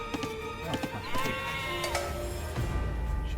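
Sheep in the strategy game Age of Empires II give several wavering bleats that overlap with scattered clicks and game effects, close and clear.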